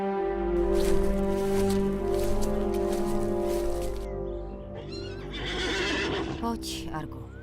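An animated LEGO horse whinnies loudly over continuous background music, with a second shrill neigh rising near the end.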